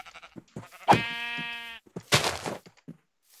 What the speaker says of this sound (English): And now we just need to kill the sheep for wool.